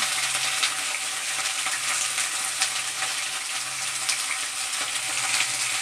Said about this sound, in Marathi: दोन ते तीन मिनटं मी वांगी आणि बटाटा फिरून घेतला तेलामध्ये परतून छान असं फ्राय झालं आहे